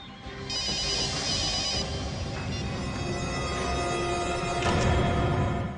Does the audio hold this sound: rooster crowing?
no